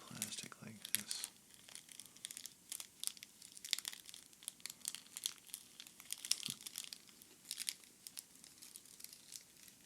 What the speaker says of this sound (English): Crinkling the plastic like this.